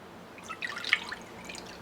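Vegetable broth poured into a bowl for a vegan teriyaki stir-fry sauce: a short, soft trickle with a few light drips, quiet and close, lasting about a second with no voices.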